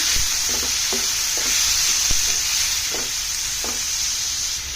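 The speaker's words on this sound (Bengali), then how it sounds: "এখন ভালো করে নেড়ে দিচ্ছি।" A pizza-bun filling seasoned with salt and black pepper sizzles steadily in a pan while a spoon scrapes through it in about seven rhythmic, close strokes.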